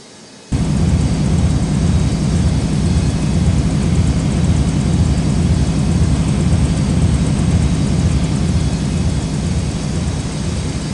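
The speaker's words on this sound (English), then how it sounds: "Cleared for takeoff runway 22 right of Whiskey, X cargo 843 heavy." A heavy cargo jet roars on its takeoff roll from runway 22R at Newark airport. The loud, steady engine rumble starts abruptly and holds throughout, with no talk.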